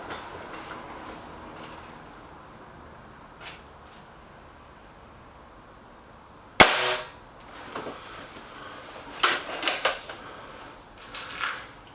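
Five Bisley pellets fired from an air rifle at a centre target, a sharp close crack followed by several quicker snaps and impacts spread across the end, over a quiet background.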